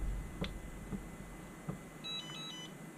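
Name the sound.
radio transmitter buzzer alarm beep, Turnigy Evolution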